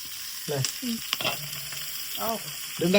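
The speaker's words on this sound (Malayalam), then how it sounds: "തക്കാളി ഇട്ടെടുത്ത് വഴറ്റി ഈ പൊടികൾ ഇട്ടുകൊടുത്തു" Tomatoes and spices sizzle steadily in a hot pan while a utensil stirs and scrapes now and then, close and moderately loud.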